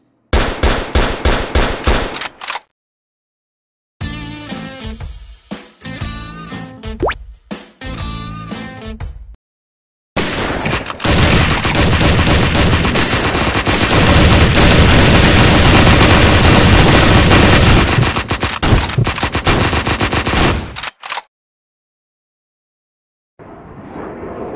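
Rapid bursts of automatic gunfire and shooting from the mobile battle royale game Gun Gladiators, with a short volley, then choppy clusters of shots and a long sustained loud stretch of continuous firing, all without talk.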